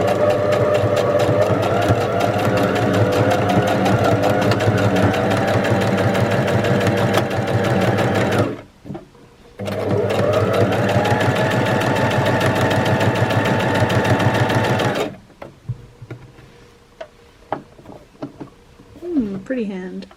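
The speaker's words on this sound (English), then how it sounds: "I then like to pull that down to the other end and then sew that in place, once again back stitching over a few times" A sewing machine runs loud and close while stitching elastic, in a long steady burst, a brief pause, then another sustained run with back stitching, before quieter handling noises and a voice talking.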